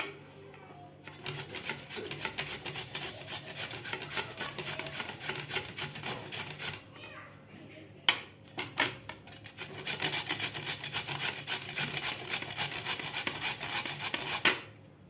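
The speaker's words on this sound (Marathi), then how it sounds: "तर आता आपल्याला हे खिसून घ्यायचं आहे बीट" Peeled beetroot rubbed against a kitchen grater for beetroot cutlets, a fast, even rasping rhythm that runs close and steady for several seconds, pauses briefly, then resumes with a few sharp knocks.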